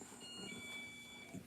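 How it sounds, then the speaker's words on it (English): A driveway alarm sounds as a thin, steady high electronic tone held for over a second, quiet and distant against a low household background. "Driveway alarm's going off."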